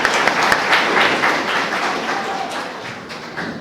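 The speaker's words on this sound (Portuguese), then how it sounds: "Palmas para Lorena, gente." Audience at a special church youth event clapping for a participant after a game, a lively burst of applause with a few sharp louder claps, tapering slightly toward the end.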